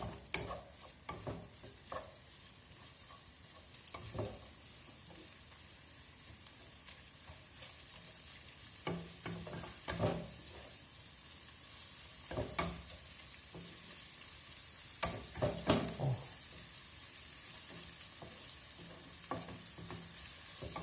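Food fries in a pan on a gas stove, sizzling steadily and faintly for a long stretch while a utensil scrapes and taps against the pan every few seconds.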